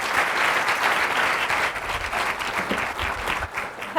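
An audience claps in sustained, dense applause for TV host Hoda Kotb at a Memorial Sloan Kettering evening event, steady and loud for the full stretch with no talking over it.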